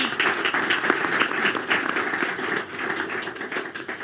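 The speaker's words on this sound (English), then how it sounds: "Please give a round of applause for Zrinca Ljutic." Applause from an audience at an alpine ski race talk show in Sölden, Austria, honoring young skier Zrinka Ljutic: lively, close clapping with sharp individual claps rising and dipping slightly across the crowd.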